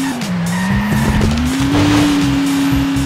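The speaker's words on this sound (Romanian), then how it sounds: "Mamă, mi s-a făcut bucăți mașina." Car engine droning with tires squealing in a long skid in the Turbo Dismount video game, a loud continuous whine bending in pitch with scattered impact thuds of a crash.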